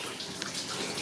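Water pours steadily into a Fluval Vincenza 260 aquarium tank being rebuilt, a continuous close splashing rush that fills the clip without a break.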